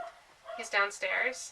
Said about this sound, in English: I apologize if you can hear the dog in the background.